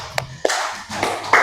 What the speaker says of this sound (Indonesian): Oke, tepuk tangan buat Yuda.